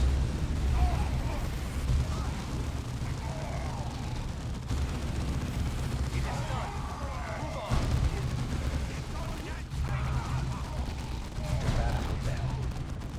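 Gunfire, explosions and artillery booms from the strategy game Dawn of War II, a dense continuous rumble of battle noise running beneath talk.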